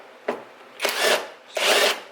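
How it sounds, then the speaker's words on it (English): A power drill boring out the rivets that hold a JDM bumper on an Evo 9, three separate whirring bursts: a short, fainter one, then two longer, louder runs close by. "We're just going to drill those out"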